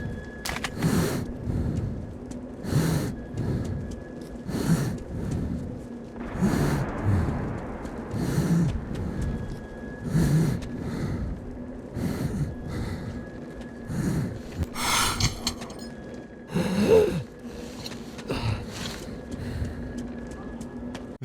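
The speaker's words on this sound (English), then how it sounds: "The further down it is, the deeper your character will breathe. His heavy breathing doesn't have a hindrance on gameplay" Heavy, rhythmic breathing through a gas mask in the post-apocalyptic video game Metro 2033, with repeated deep breaths and gasps over a low steady hum, close and fairly loud.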